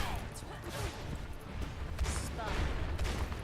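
Ashe's rifle from the Overwatch video game firing in a busy match, repeated shots and distant gunfire blending into a dense, moderately quiet wash of combat noise with talk over it.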